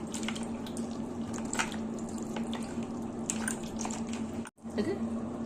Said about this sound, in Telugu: చింతపండు బాగా, చింతపండు కూడా కడగాలండి